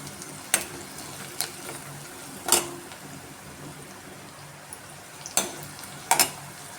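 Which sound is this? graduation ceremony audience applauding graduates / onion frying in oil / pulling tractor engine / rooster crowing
onion frying in oil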